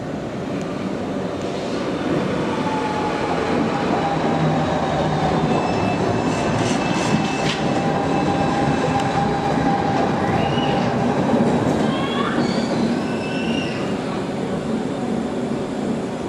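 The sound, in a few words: Croydon Tramlink tram arriving at Wimbledon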